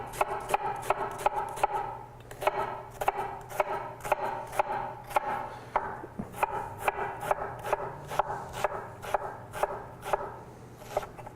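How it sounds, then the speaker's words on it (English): A knife chops onion finely on a cutting board in quick, regular bursts of crisp taps, close and clear, with a brief pause partway through before the steady rhythm resumes. "when I cut my onion, and I'm going to keep my onion pretty fine"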